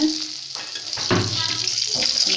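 Eggplant fries in hot oil with a steady close sizzle and crackle, with brief stirring or handling noises partway through.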